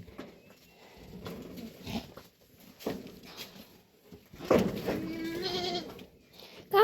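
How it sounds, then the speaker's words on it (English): Goats on a family farm in Kenya bleat repeatedly during a morning routine, some calls close and loud with others fainter behind, over rustling farmyard noise. "So guys, these are our goats, my mom's goats"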